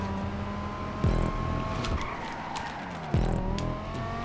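In the GTA 5 video game, a car brakes hard and skids twice, each sharp tire screech standing out over a constant engine drone and game ambience, with no talking.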